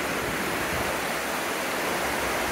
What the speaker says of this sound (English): Got a natural river of cold water right next to it.